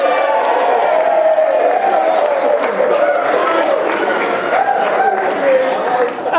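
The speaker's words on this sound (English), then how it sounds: "give yourselves a round of applause" A large wedding crowd applauds and cheers, a dense continuous wash of clapping with voices mixed in.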